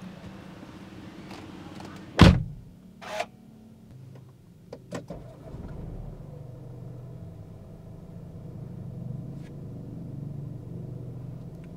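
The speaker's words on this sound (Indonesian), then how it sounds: "Kita tutup pintu" A single heavy thud of a car door shutting inside a car fitted with sound-deadening, followed by a smaller knock, then a steady low engine-like rumble with the air conditioning running continues in the enclosed cabin.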